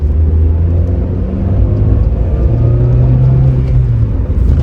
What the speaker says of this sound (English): I just love the sound of the engine.